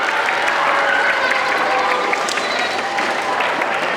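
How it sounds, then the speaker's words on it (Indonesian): Junior high school students at an anti-bullying seminar applaud together in a sustained, even burst of clapping that stays loud throughout, with crowd murmur underneath. "tepuk tangan untuk kalian semuanya"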